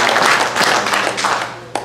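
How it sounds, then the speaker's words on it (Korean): Audience at a church prayer gathering claps for the organizing officers and committee members, a brief scattered round of hand claps with a few sharper individual claps standing out near the end. "이들을 우리 한번 박수로 우리 힘을 보태주시기 바랍니다"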